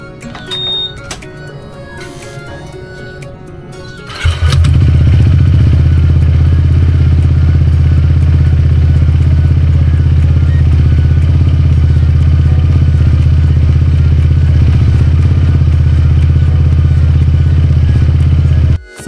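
Honda ADV 160 scooter just after an oil change, started up after a few seconds of quiet clicking, then idling steadily with a loud, close, even drone for about fifteen seconds before cutting off.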